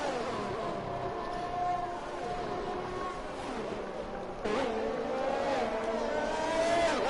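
F1 2021 race cars screaming around the Australia circuit during an overtake, a continuous high engine whine with a louder second car surging in mid-way, shifting pitch as they pass close by.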